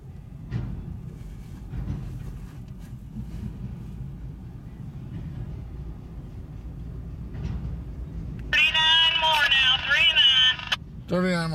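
Freight train cars roll past on a freezing day, a steady low rumble with periodic clunks, then a loud squealing screech of wheels near the end; people talk over the passing train.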